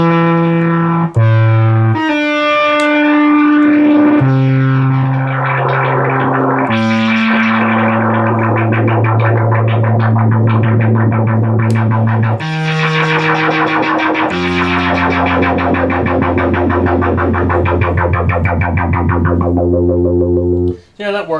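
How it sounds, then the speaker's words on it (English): A restored Minimoog synthesizer, its noise source mixed in, produces loud, sustained buzzing tones that shift pitch in stepped chords, with a hissy, distorted texture filling the sound continuously. "And same thing here, we can bring in the noise source."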